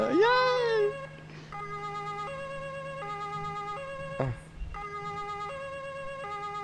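A wailing electronic police siren in the video game Altis Life sweeps up at the start, then steady two-tone siren tones repeat throughout, with a brief voice and a thump midway.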